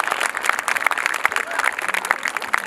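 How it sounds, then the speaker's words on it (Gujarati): An audience at a school annual function claps in a dense, continuous patter, fairly close, with faint voices mixed in. "જોરદાર તાળીઓ વગાડવાનું કેવું પડશે"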